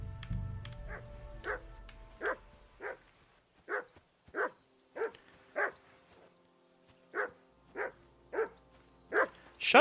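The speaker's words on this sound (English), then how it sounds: "whistle at that mutt of yours to stop barking" A dog barks repeatedly in Kingdom Come: Deliverance 2, a medieval role-playing game, giving about a dozen sharp, fairly evenly spaced barks at moderate distance, with a low rumble at the start.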